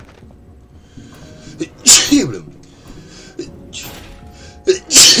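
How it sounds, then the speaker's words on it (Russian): A person sneezes twice, loud and close, with a short muttered word in between and quiet background sound from a live-streamed game. "Сейчас я чихну."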